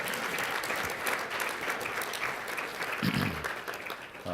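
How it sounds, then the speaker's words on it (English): Conference audience applauding steadily throughout, a dense wash of clapping hands filling the room at even loudness. "Why don't you join me in giving a big round of applause to both Bill Allen and David Abel."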